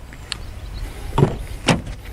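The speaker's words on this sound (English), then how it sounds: "Door swings open fairly wide." A Subaru Solterra electric SUV's car door swings open, with two short mechanical clunks of the latch and hinge, close and moderately loud, against a quiet background.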